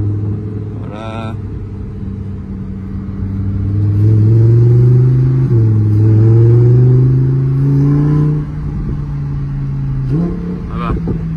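A Lamborghini Huracan Evo being driven, its engine droning steadily and rising in pitch through several gear changes, loud and close inside the cabin with people talking over it.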